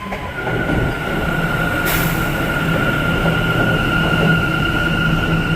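A New York City subway train on the A line rumbles steadily through a tunnel-like space, with a sustained metallic whine and low mechanical roar throughout, fairly close and continuous.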